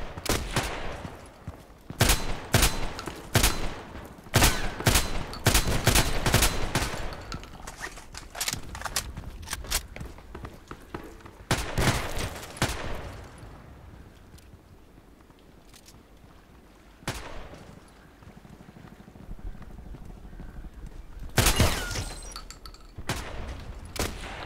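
Sharp, loud shotgun blasts from the first-person shooter Contract Wars, in fast clusters and scattered single shots, with quieter stretches of game ambience between them.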